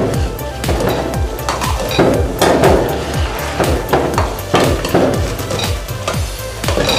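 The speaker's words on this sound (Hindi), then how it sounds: "पटाखों की आवाज़ें आ रही हैं, ये हमारे मोहल्ले में एक शादी है" Rapid, loud popping bangs rattle off in a dense, continuous string, like a long chain of firecrackers going off nearby at a neighbourhood wedding in Islamabad.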